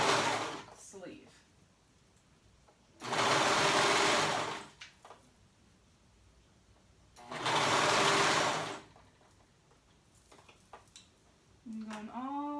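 A sewing machine stitches a sleeve onto a cold shoulder jumper in two steady bursts of a few seconds each, close and fairly loud, with quiet handling of fabric between them and a voice speaking in the pauses.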